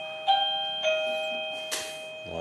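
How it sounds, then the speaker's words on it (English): An electronic doorbell chimes in a room, two clear ding tones ringing close and distinct against a quiet background, followed by a short rustle. "that's the same doorbell that I have at my house"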